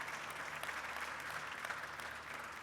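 Applause from an audience at the opening session of the 2021 Portugal Air Summit, a steady wash of many clapping hands filling the whole moment with no voices on top.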